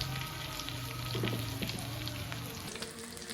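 Tomatoes fry in a pan while tawa chicken is being made. A steady, moderately loud sizzle runs the whole time with a few faint stirring clicks, and no voices.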